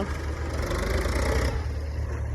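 A steady low tractor engine rumbles and idles throughout, loud and close, with no voices over it.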